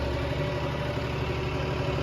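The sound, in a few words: tractor engine idling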